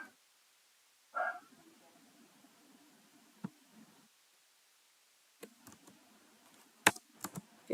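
Typing on a computer keyboard while writing code: sparse, faint key clicks and a few sharper taps over a quiet room, with a low murmur between bursts of keystrokes.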